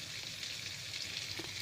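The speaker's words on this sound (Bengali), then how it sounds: "এদিকে ভাজা হচ্ছে চিংড়ি, এদিকে কিছু ভাজা হয়ে গেছে।" Shrimp fry in a pan with a dense, continuous sizzle and crackle, steady and close, with no talking.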